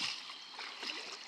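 A river flows in a soft, continuous wash of water, faint and close.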